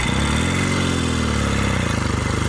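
A 1964 Royal Enfield Interceptor Mk1 motorcycle engine idles close by with a steady, loud, low throb and even rhythmic pulsing that holds throughout.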